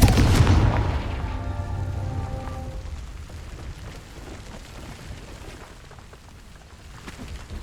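A Confringo spell explodes in the fantasy game Hogwarts Legacy: one loud, deep booming blast that rolls out and fades over several seconds into a rumbling, crackling tail.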